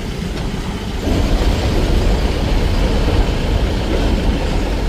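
A freight train rolls past a level crossing on the Tarale–Gaganbawda road, a steady, loud rumble of wagons and wheels that swells after the first second and holds continuously to the end.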